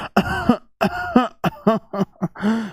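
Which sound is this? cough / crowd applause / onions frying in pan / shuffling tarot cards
cough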